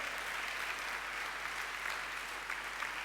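A church congregation applauding during a Sunday service, a dense, steady wash of clapping that holds evenly throughout at a moderate distance, with no break or swell.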